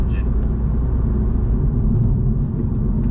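A 2018 BMW M140i with its B58 engine pulls hard, its steady, dense low rumble held close and loud throughout with little change in pitch.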